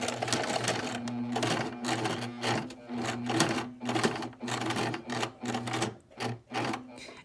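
Sewing machine stitching a duck cloth face mask, running in short bursts with a steady mechanical whirr and rapid needle clatter, stopping and restarting several times, loud and close.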